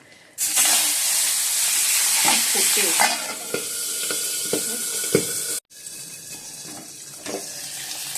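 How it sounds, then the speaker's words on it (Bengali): Fish frying in a little oil in a kadai sizzles loudly and steadily up close, with utensil taps and crackles, a brief drop in level, then sizzling continuing. "চলো মাছগুলো এবার ভেজে নিই"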